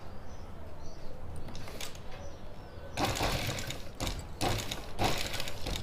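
A sewing machine runs stitches on a blank scrap of cloth, close and steady, in short bursts with brief pauses between runs of stitching.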